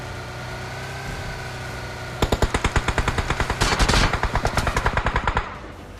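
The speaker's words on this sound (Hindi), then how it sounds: "पीछे से भैया एकदम से हमारी गाड़ी के ऊपर गोलियां चलती हैं" Video game gunfire aimed at a car: after a low engine drone, a rapid burst of loud machine-gun shots rattles in a steady stream for about three seconds, then stops.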